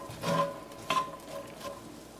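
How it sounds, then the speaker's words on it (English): Tricolor and green peppers with onions sautéing over high heat in a pan, with a soft sizzle and a few scraping strokes of a utensil stirring the vegetables, close and fairly quiet. "I'm going to saute it at a high heat for a few minutes."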